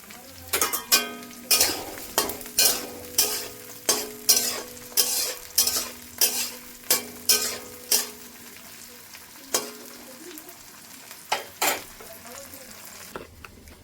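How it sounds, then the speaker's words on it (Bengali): Green chilies and garlic fry in a home kitchen pan with a steady sizzle, while a utensil stirs and scrapes in a quick regular rhythm of about a dozen close strokes that then slow and thin out. "কাঁচা লঙ্কা রসুনটা একটু হতে দেব।"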